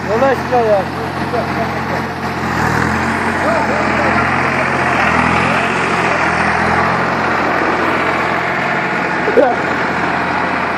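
A New Holland TT50 tractor with a Deutz engine runs steadily at a constant idle-like drone throughout, fairly loud and close, with voices talking over it.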